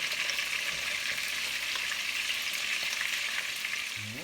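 Meatballs browning in a pan alongside simmering sauce give a steady, close hiss of sizzling frying that continues throughout, with faint stirring sounds.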